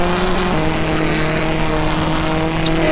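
Onboard a rally car, number 81, in a NASA RallyCross event, a loud steady engine drone holds at high revs with a slight pitch shift, close and continuous, with no talk.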